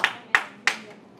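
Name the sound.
applause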